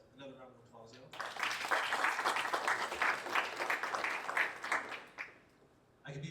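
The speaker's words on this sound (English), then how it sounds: "So another round of applause" A club audience breaks into steady applause after a brief spoken word, clapping fills several seconds at moderate volume, then fades as a voice resumes talking.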